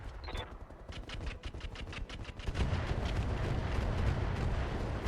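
Indirect artillery fire in the RogueTech game opens as a rapid volley of sharp booms and then gives way to a sustained, loud rumbling barrage that fills the rest of the moment.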